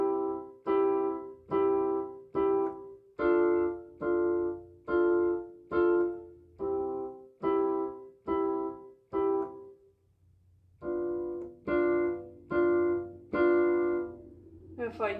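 A keyboard plays a steady series of detached chords without the sustain pedal, each chord sounding then cut off before the next, in an even rhythm with a short pause partway through.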